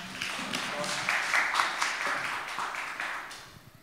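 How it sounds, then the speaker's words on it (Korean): An audience claps steadily for about four seconds after a startup pitch at an investor demo day in Gyeongnam, a dense, even patter that tapers slightly toward the end. "큰 박수 부탁드립니다"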